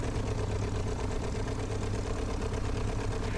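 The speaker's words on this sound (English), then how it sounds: "The engines should start right up, and now enjoy this beautiful sound effects" A Piper Cub's piston engine in Microsoft Flight Simulator drones steadily with a throbbing, even rumble, loud and close, like a small propeller plane idling.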